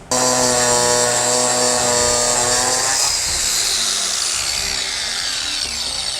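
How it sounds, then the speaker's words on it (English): A handheld grinder cuts into wood while building a large tabletop gaming board, giving a loud, steady high whine that drops in pitch and turns rougher halfway through as it bites into the wood. "I realized I've got my grinder here"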